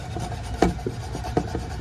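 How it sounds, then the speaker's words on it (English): A scratchy scouring pad rasps over the raised surfaces of a painted vintage metal lantern in short, close rubbing strokes, several distinct scrapes within a couple of seconds. "you take the scratchy side and you just kind of scratch at all the raised surfaces"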